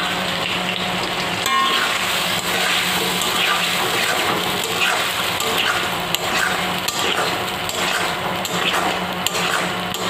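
Egg frying in hot oil in a pan for a bottle gourd and egg dish, giving a steady, close sizzle that runs throughout with light stirring and scraping.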